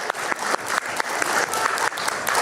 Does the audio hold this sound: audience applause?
yes